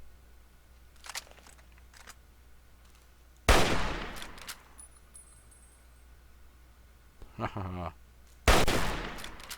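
Automated turret gunfire in Fallout 3, heard as loud, sharp bursts of shots with a few fainter bursts in between, under brief laughter.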